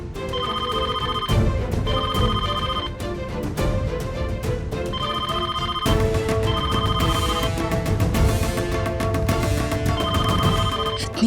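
A telephone rings repeatedly late at night in a Hindi TV drama scene, against a busy musical backdrop, steady and fairly loud throughout, with no talking.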